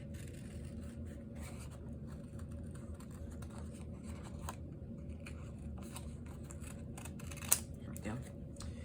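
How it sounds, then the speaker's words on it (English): Scissors cut out a paper piece covered in acetate for a fancy folder. Faint, quiet snips and crisp rustles sit over a steady low room hum, with one sharper click near the end. "cut out the piece that I want with the covering on it, the acetate"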